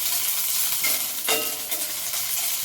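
Green chilies fry in a little oil, giving a constant close sizzle with a few soft pops and one brief flare of crackling partway through.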